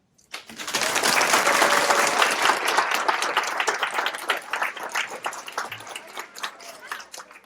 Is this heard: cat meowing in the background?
no